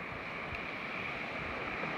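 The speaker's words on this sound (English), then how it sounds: "I'm going to talk quite loudly over the crash of the waves" Steady ocean surf washes and roars continuously with wind noise and no distinct breaks, the waves close and fairly loud, with no voices.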